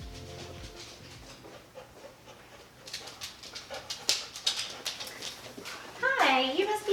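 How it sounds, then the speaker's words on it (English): Jade the dog pants and whimpers up close, with rapid breathy bursts and rising whines that grow louder toward the end, while people talk nearby. "This is our dog Jade."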